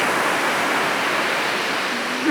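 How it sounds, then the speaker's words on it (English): A steady, dense roar of falling water at Montezuma Waterfall fills the space, broad and unbroken throughout. "this morning we have come to Montezuma Waterfall"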